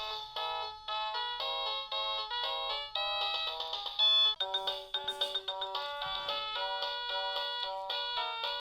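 Electronic piano gloves play a built-in demo tune, a tinny, bright synthesized melody of quick beeping notes with a steady rhythm, fairly faint and alone without talking.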